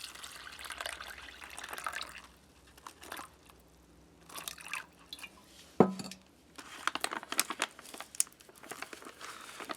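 Water fills a foil beverage powder pouch to the fill line: crinkling packaging, trickling and splashing, with a sharp crunch midway, quiet and close.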